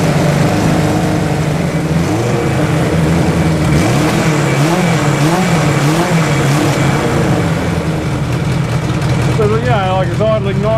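Cold Suzuki GS1000 motorcycle engine, loud and close, running steadily at a lumpy idle with occasional small rev swells, a continuous mechanical burble with talk over it.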